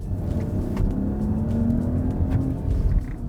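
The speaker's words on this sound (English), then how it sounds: "it really sounds nice. That's the advantage of a straight-six engine versus a V6" A Mercedes GLE's straight-six engine revs steadily, a low rumble with a rising harmonic whine that swells and eases over a few seconds, close and alone with no talking.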